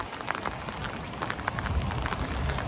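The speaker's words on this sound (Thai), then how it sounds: "ฝนตกจ้าฝนตกพี่น้องเอ้ย" Rain falling steadily outdoors, a dense, even patter with scattered sharper drops over a low background rumble.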